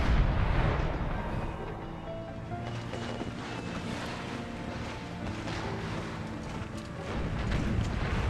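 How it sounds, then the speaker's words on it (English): Howitzer artillery firing in an Empire: Total War battle mod, rendered as a dense, continuous rumbling roar of distant cannon and battle noise, steady in loudness with a slight swell near the end, no talking. "I'll have them fire right on the border."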